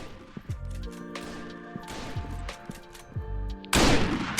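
Gunfire in the online PvP shooter game Frontline Inferno, set in a bunker map: four separate heavy shots with booming low tails at roughly one-second spacing, followed by a louder burst of crashing noise at the end.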